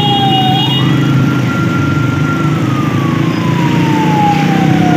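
An ambulance siren wails steadily through a traffic jam at a busy city intersection, its tone sliding up and then slowly down, set against loud, dense engine rumble with no voices.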